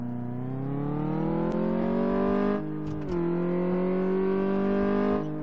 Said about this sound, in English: She's got a nice sports exhaust on it by the sounds of it.